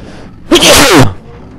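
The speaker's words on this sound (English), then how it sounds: "Okay, I had to sneeze" A single loud, close human sneeze, a sharp burst lasting about half a second against a quiet background.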